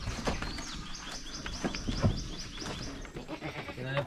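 A pregnant goat on a farm bleats amid a busy outdoor scene, with a rhythmic series of high bird chirps running through and a person speaking softly in the background.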